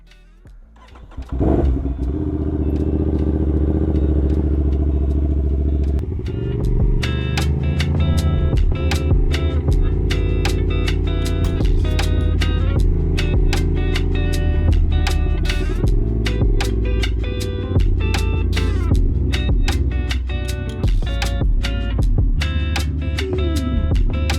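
An Aprilia RS660 motorcycle, just after a gas leak repair, starts up close by and settles into a loud, steady engine run with a rapid ticking rattle. The engine holds the same note throughout.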